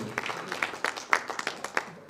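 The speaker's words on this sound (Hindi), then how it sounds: "फिरोज खान साहब के लिए जोरदार तालियां बजाइए" A small crowd at a minority community gathering after a BJP win applauding with scattered, uneven claps, moderately close, sustained for a couple of seconds.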